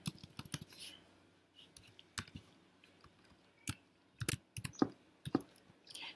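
Someone types HTML heading tags on a computer keyboard: quiet, irregular clicks and key taps in small clusters, close by and otherwise in near silence.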